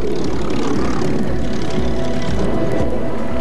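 A Royal Air Force jet trainer roars loudly and steadily close by, a broad engine drone with a faint tonal whine running through it. It stays continuous from start to finish with no speech.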